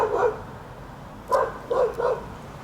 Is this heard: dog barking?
yes